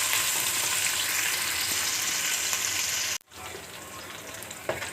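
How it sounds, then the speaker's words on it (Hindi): Onions frying and browning in a pan for matar pulao, a loud, steady close sizzle that cuts out briefly before resuming with light stirring, no voices. "प्याज को ब्राउन करेंगे"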